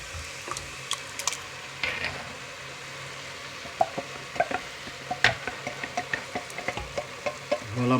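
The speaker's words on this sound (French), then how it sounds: "Maintenant on va mettre la boîte de tomates pelées." Canned peeled tomatoes go into a sizzling pan of bolognese base with carrots and peppers, then get stirred: steady frying hiss with a run of close, irregular wet plops, scrapes and utensil knocks.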